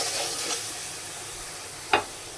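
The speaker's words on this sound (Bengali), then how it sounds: "লবণ আর হলুদ দিয়ে এবার ভালোভাবে মশলাটা আমি কষিয়ে নেব" Ground spice paste with salt and turmeric fries in a pan, giving a faint steady sizzle and hiss with a soft stirring scrape, and one brief sharp clack near the end.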